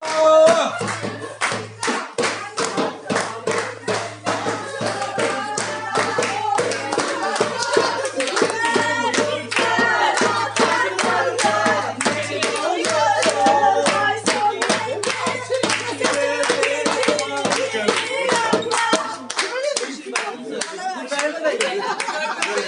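Rhythmic clapping from an audience at a night-time gathering, sharp regular hand claps running throughout, mixed with voices and chatter.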